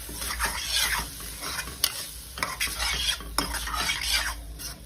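A spoon stirs and scrapes through a sizzling vegetable spring roll filling in a pan, repeated strokes over a constant frying hiss, close and fairly loud.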